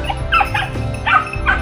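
Hunting dogs bark in loud, repeated bursts during a wild boar drive hunt, with several yelping calls close by over a constant rumbling background.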